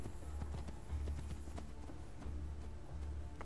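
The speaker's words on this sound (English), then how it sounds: "I don't know why I took this horse" Horse hooves in Assassin's Creed 2 clip-clop in a quick, steady rhythm, close and fairly quiet, with a low rumble underneath and no talking.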